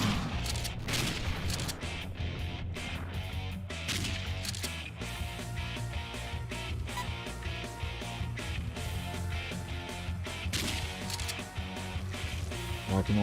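Rapid gunfire in the retro zombie game Dead Pixels, a steady stream of sharp shots over a droning synth soundtrack, loud and continuous.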